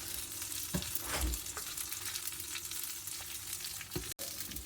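Spices with salt and asafoetida powder sizzle and fry in a hot pan for tamarind rice, a continuous crackling hiss with a few scraping stirs.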